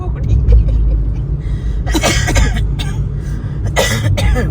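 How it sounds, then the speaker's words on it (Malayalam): A woman with a worsening cough coughs in short harsh bursts, two clusters of rapid hacking coughs over a steady low engine-like rumble, fairly close, with voices in the background between them. "ചുമ കൂടി"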